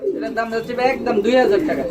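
Soft, low coos from a female pigeon repeat close by while a person talks over them throughout.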